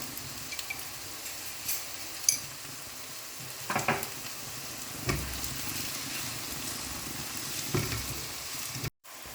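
Vegetables cook in salted butter in a pan for vegetarian macaroni, giving a steady close sizzle with occasional soft stirring clicks and scrapes, then a sudden brief cutout near the end.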